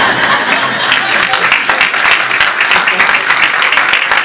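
Audience applause during a Hindi spiritual discourse on Krishna and Arjun, a dense, steady wash of many hands clapping that carries on evenly from start to finish.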